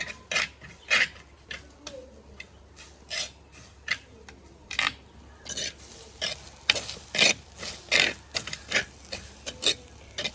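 Grated coconut being stirred as it roasts in a pan, a close series of rhythmic scraping, rasping strokes from a spoon against the pan over a faint sizzle, repeating steadily without talk.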